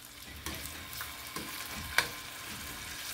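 Beef with bitter melon frying and being stirred in a home pan: a steady sizzle throughout, with a few sharp utensil scrapes and clinks breaking through, no talking.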